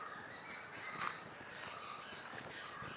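Crows caw faintly in the distance, harsh calls rising now and then out of a steady outdoor hiss around nightfall.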